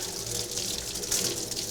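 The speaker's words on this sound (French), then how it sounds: "Vous allez vers votre robinet d'eau chaude, vous mettez de l'eau chaude, et là vous faites passer l'eau entre," Hot water gushes steadily from a kitchen tap over a Christmas turkey being prepared, a close, continuous splashing hiss with no talking.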